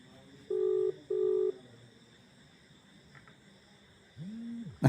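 An unanswered phone call rings with a double ringback tone: two short, steady buzzing pulses close together, then a pause over faint background hiss. A different low tonal sound comes in near the end.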